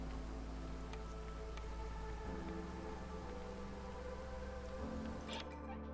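Storm rain in the game Against the Storm: a steady, dense patter and hiss of rainfall with a constant low rumble underneath and no voices.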